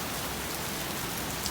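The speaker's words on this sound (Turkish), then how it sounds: "Yağmur yağıyor." Rain pours steadily around a covered shelter near a football field, a dense, even hiss of drops on surfaces close by, alone and without voices.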